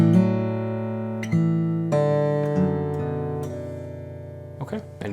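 A fingerstyle acoustic guitar phrase from Raglan Road begins at a hammer-on, a handful of plucked notes and chords each left ringing over the last, close and clear with no voices.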